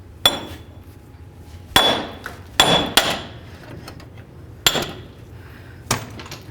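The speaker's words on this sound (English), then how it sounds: "we're going to continue on with our hammer, and we're going to break the bearing free from the knuckle." A hammer strikes the steering knuckle of a 1994-2004 Chevy S-10 to break the wheel bearing free, six sharp ringing metallic blows at uneven intervals, close and loud with brief decays.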